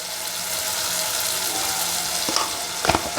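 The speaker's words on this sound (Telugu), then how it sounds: "ఆయిల్లో మిరపూడ వేస్తే బాగుంటుంది అనమాట" Chili powder sizzles in hot oil for a dry fish gravy, a steady close frying hiss throughout, ending with a few brief clinks and scrapes of stirring.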